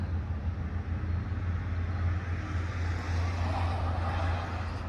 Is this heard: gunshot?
no